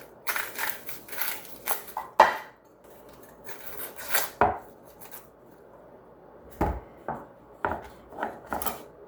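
An onion being chopped on a board, a series of sharp knife thuds in irregular bursts, some clustered and some spaced apart, close and fairly loud with quiet gaps between cuts and no talk.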